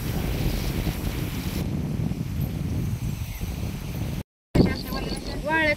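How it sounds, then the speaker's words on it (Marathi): Strong wind gusts buffet the microphone outdoors in open countryside, a loud continuous rumbling rush with a brief cut near the end, while people talk faintly nearby. "पण ते आता वारं सुटले ना"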